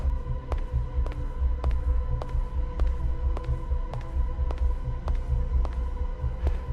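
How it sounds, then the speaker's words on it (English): Crystal and glass shards hanging from branches and stone in a glass-veined fantasy garden give off a steady low hum, with soft throbbing pulses about every half second and faint ringing tones, alone and close. "Shards hang from branches and stone, humming softly at the slightest disturbance."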